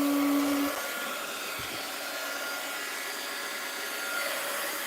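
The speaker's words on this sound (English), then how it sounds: "It's going to be dry by the time I get my heat gun plugged in." A heat gun blows hot air to dry paint on an art journal page, giving a steady broadband hiss with a low hum that fades early, with no talking.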